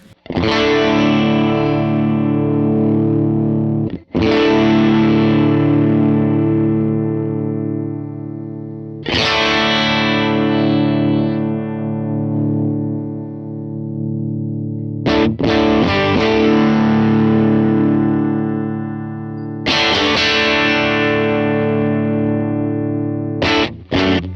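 A distorted electric guitar chord rings out again and again through a Diamond Compressor SE pedal, its tone sweeping through shifting brightness as the EQ is swept and each sustained strum decays, loud and close.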